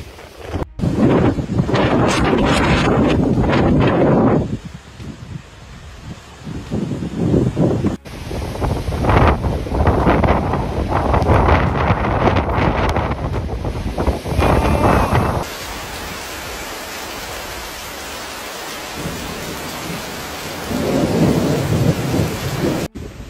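Strong storm wind from Storm Agnes roars over crashing waves at high tide in Ireland and the UK, gusts of 70 mph, loud surging bursts separated by short abrupt breaks, with heavy rushing noise throughout.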